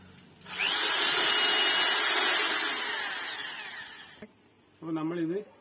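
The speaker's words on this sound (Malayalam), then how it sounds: "അപ്പൊ നമ്മളിത് ഇവിടുന്ന് ഒരു ഹോൾ അടിച്ചിട്ടുണ്ട്" A power drill spins up and bores a hole for about three and a half seconds, loud and close, its whine dropping slightly as it cuts, then stops; someone briefly speaks afterward.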